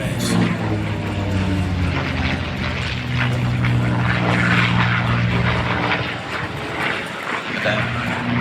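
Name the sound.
propeller aircraft flying by at an air show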